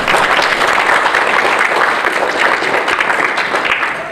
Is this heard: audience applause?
yes